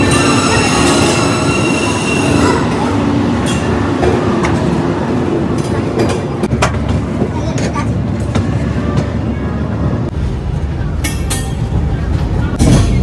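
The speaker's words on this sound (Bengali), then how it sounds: "তো ট্রেনটা এখন আমাদের হাওড়া থেকে ছেড়ে এটার ফার্স্ট স্টপেজ হচ্ছে খড়গপুর।" Gitanjali Express, the 12860 Mumbai train, running after departing Howrah, heard as a loud, steady rumble of wheels and carriage rattle with occasional higher clatters throughout.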